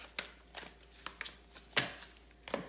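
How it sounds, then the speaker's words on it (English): A deck of tarot cards is shuffled quickly by hand, giving a few soft, separate papery flicks and slaps spread unevenly over a couple of seconds, close and quiet, with no talking. "I'm just gonna do a quick little shuffle"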